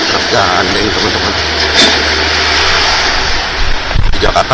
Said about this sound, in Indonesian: Ini truk gandeng teman-teman.